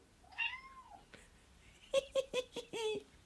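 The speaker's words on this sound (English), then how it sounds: "I think my cat's entering the room." A cat meows once, then gives a quick series of short meows and a final longer one, close and clear in a quiet room.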